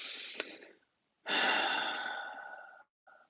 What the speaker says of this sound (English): And we take a big deep breath.